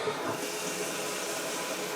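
Cold water pouring into jars to about three quarters full, a steady, soft rushing splash lasting throughout, fairly quiet and with no one talking.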